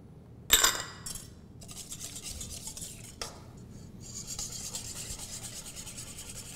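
A whisk scraping and rubbing against a bowl while balsamic and apple cider vinegar with minced shallots are beaten into a vinaigrette, with a sharp clink near the start and quieter, steady stirring strokes after.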